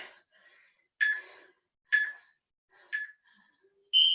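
A workout interval timer sounds four short, bright electronic dings about a second apart, fairly quiet with near silence between them.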